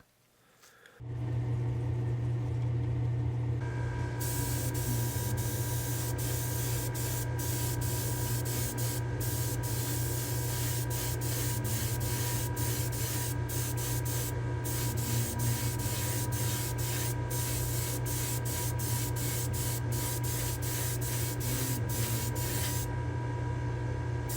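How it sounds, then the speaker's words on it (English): Continuous close hiss of a spray can painting a Hot Wheels '55 Nomad wagon white inside a spray booth, starting abruptly and holding steady with a constant hum and brief interruptions, no talk. "I think I'm ready to go spray the white."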